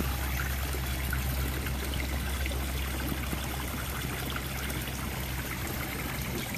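Garden pond water flowing and rippling on the last day of winter, a continuous broad trickling wash with a steady low hum underneath, even in level throughout, with no voices.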